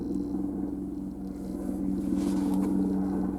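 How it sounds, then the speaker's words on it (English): A low, steady rotor-like drone with a rhythmic pulsing thrum rumbles continuously, moderately loud and slightly swelling toward the end. "Sounds like a helicopter"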